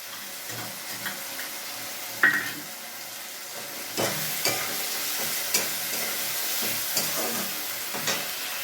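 Chili paste, onion paste, ginger-garlic paste, cumin and coriander powder frying in goat fat, a steady low sizzle with occasional sharp knocks and scrapes of a spoon against the pan, close by.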